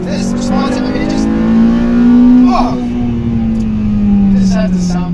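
Acura RSX S engine running with a steady, smooth drone that swells briefly in pitch and loudness midway, heard from inside the car.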